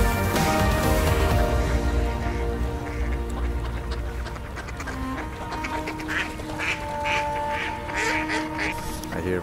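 Many ducks on a foggy, partly frozen lake quack repeatedly in a noisy, overlapping chorus close by, with occasional honking mixed in.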